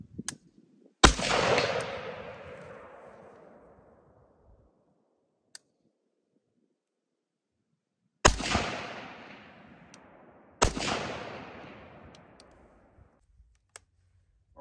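Three loud, sharp precision rifle shots fired from shooting positions, each with a long ringing echo that fades over a couple of seconds, the first alone and the last two closer together, with quiet clicks and handling noises between.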